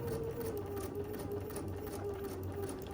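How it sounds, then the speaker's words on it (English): Sewing machine stitching a mini quilt along a marked line, a steady continuous motor hum with a fast, even needle rhythm, running alone and close throughout. "I'm going to sew right on the line"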